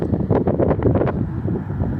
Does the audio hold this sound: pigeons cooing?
no